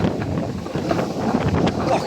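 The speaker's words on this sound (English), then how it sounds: "it's windy" Strong wind buffeting the microphone during an outdoor skateboarding session in stormy weather, a steady loud rumbling roar with gusty swells throughout.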